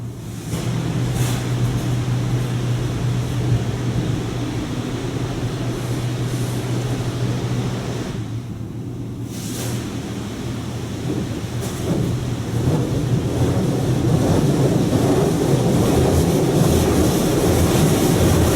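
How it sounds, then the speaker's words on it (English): High-pressure water jets of a power blaster cycle roar against a car inside an automatic car wash in St. Louis Hills, a loud, dense, continuous rush over a steady mechanical hum, briefly easing midway before building again. "Right now we're getting what it calls a power blaster wash"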